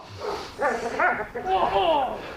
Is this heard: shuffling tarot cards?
no